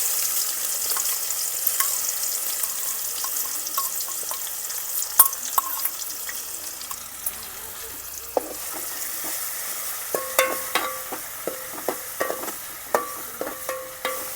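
Onion, ginger and chillies fry in a pan for Gujarati baingan shaak, giving a strong, continuous sizzle with spoon stirring and scraping that grows into sharper clicks near the end, with no voices.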